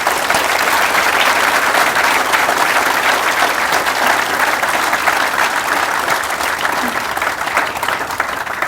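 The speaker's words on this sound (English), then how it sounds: "Can we give Vanessa another round of applause?" Sustained, dense applause from a large audience at a technical institute graduation ceremony, steady and loud throughout with no pauses.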